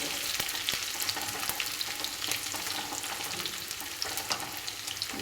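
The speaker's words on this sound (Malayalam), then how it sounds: "തേങ്ങ വറുത്തെടുക്കാൻ കുറച്ചും കൂടുതൽ എണ്ണ വേണം" Grated coconut and onion frying in oil while stirred, a dense close crackling sizzle with frequent sharp spatula scrapes and taps throughout, no voices.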